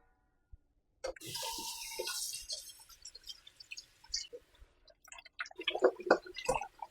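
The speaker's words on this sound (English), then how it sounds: "Now I'm going to wash the cow foot." Tap water runs into a kitchen sink while cow foot is washed, a steady splashing stream that starts abruptly, then gives way to scattered drips, clinks and handling noises nearby, with no talking.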